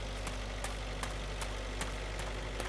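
A big blue tractor's engine idles close by in a steady low rumble, with a faint rhythmic knock pulsing through it and no voices.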